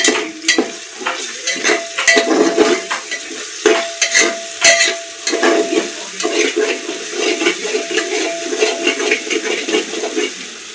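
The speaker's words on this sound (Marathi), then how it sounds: "चांगलं लाल परतून घ्यायचं." Village-style chicken biryani masala is fried until red. A loud spatula scrapes and clatters against the pan in uneven bursts over a running sizzle.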